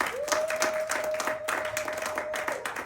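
A church congregation at a Sunday worship service applauds together, a steady wash of many hands clapping throughout, with a sustained tone ringing beneath and a louder burst at the very end.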